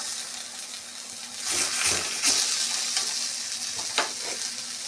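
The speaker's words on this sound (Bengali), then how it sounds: "এই সিদ্ধ করা কাঁচা কুমড়োগুলো দিয়ে দেবো।" Boiled raw pumpkin pieces fry in a pan with fried onions, giving a loud, close sizzle and hiss that swells as the pumpkin goes in, plus a few scrapes and clinks from stirring.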